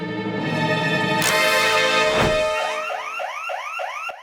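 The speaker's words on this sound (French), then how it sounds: "Il faut sonner l'alarme." A loud electronic alarm blares in an animated children's show, sounded against thieves, with shrill, steady tones, then shifts into a rapid repeating whoop that cycles over and over.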